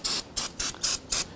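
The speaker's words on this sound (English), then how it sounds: "Give that a spray and wipe this down." Aerosol cleaner sprayed onto a brake fluid reservoir cap on a 2010-2019 Ford Taurus, five short, sharp hissing bursts in quick, even succession, close and alone.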